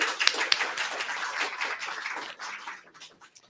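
Audience at a schools poetry festival applauding the event's technical crew, a dense burst of many hands clapping that fills the room and then thins into a few scattered claps near the end.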